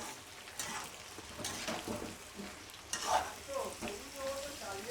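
New potatoes, cut into fairly large chunks, go onto onions frying in a pan, giving a crackling sizzle with uneven bursts and scraping stir sounds, fairly close and with no voices.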